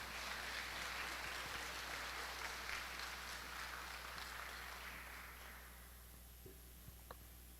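An audience at a Department of Foreign Affairs year-end event gives a faint, distant round of applause that thins out toward the end.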